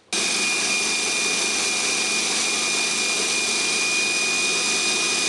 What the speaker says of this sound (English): You can use a linisher or a grinder if you have one.